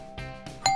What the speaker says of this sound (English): Did you hear something? It sounded like a doorbell.